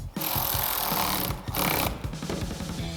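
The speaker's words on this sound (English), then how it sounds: "grab our ratchet 10mm socket," A ratchet with a 10mm socket tightens a battery terminal on a 2024 Toyota Tacoma, giving rapid close-up clicking bursts of the pawl, briefly pausing, then clicking again.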